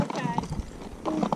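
Horses walking a desert trail on an Arizona horseback ride, hooves clip-clopping in an uneven rhythm close by while a guide talks over them.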